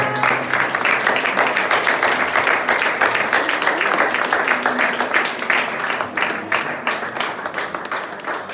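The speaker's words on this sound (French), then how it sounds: "On va applaudir le Seigneur." A church congregation applauds during a sermon, dense continuous clapping that holds for over eight seconds and fades slightly toward the end, with faint voices underneath.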